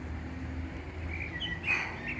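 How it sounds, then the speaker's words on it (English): A few brief bird chirps, high and fairly faint, over a steady low outdoor background hum on the Via Podiensis walking trail in France. "Even the bird is chirping."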